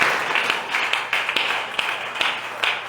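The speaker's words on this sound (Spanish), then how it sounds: "Dele un aplauso fuerte de despedida al Señor Jesús." A church congregation claps along in a steady rhythmic beat, sharp regular hand claps over a room murmur, moderately loud.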